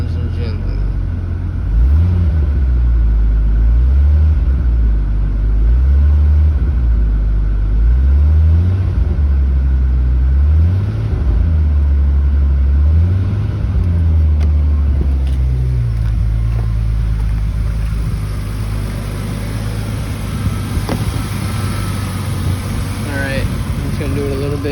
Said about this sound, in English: and then rev the engine gently.